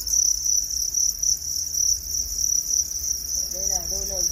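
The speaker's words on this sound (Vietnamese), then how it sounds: "Đây là cái con dế Thái" Large Thai crickets on a cricket farm chirp in a steady, shrill, continuous trill, loud and close throughout, with a short faint warbling call near the end.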